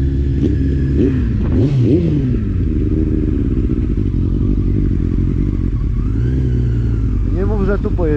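A Suzuki motorcycle engine revs loudly nearby, its pitch climbing in quick sweeps early on and again near the end over a constant, rough running sound.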